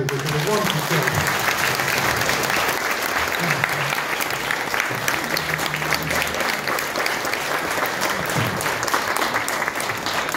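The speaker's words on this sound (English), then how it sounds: "would you please a quick round of applause for them" Sustained crowd applause fills a parish celebration for a priest's 50th ordination anniversary, steady dense clapping throughout, with some voices mixed in.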